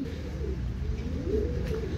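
Soft, low cooing from a racing pigeon at the loft during a 267 km race, rolling coos repeating close by over a steady background.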